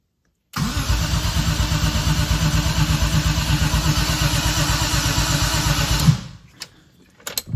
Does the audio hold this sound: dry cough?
no